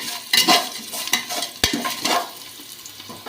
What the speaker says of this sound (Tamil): வெங்காயம் நல்லா பொன்னிறமாக வதங்கிட்டு